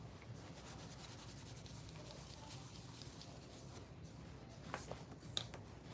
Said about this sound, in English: Go ahead and sand that.